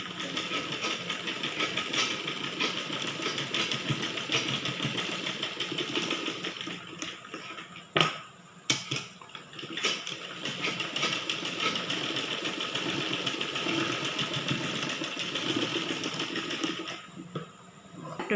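Sewing machine stitching together the shoulder seams of a baby girl's 3/4 frock, running in a steady continuous whir with a brief pause midway before resuming.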